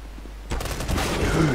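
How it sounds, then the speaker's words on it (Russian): Counter-Strike: Global Offensive gunfire hits a wall as a rapid burst of shots suddenly breaks out after a quiet start and continues steadily, with a voice talking over it. "А чё он в стену стреляет?"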